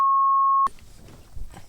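A steady electronic censor beep tone sounds alone, then cuts off abruptly into quiet room noise.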